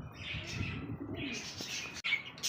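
Pigeons coo continuously at close range, soft repeated throaty calls with faint chirps and a brief wing rustle near the end.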